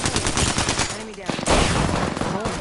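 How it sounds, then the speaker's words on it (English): Gunfire in the shooter game Shadowfall: rapid machine-gun bursts with loud crackling impacts, close and continuous, with a voice talking briefly over the shooting. "Taking fire. Getting shot."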